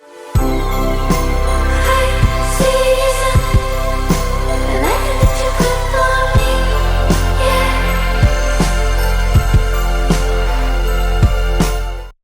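Drums processed with Waves plugins sitting inside a dense full mix, steady sharp hits punching through sustained music throughout, loud and continuous.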